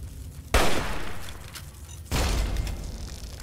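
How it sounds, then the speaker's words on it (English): Two booming hunting rifle shots ring out in the video game Fallout 3, each a sharp blast followed by a lingering rumbling tail, about one and a half seconds apart. "Hunting rifle, here we go."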